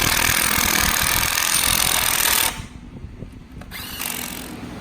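Power tool tightening nuts on a turbo downpipe of a Fiat 500 Abarth, a loud continuous whir for about two and a half seconds, then cutting off to a quieter background with a short burst near the end.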